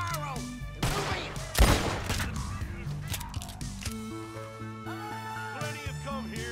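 Gunfire crackles through a Red Dead Redemption 2 trench battle, bursts of shots layered over a busy game soundscape with music-like tones and a loud sharp crack near the middle.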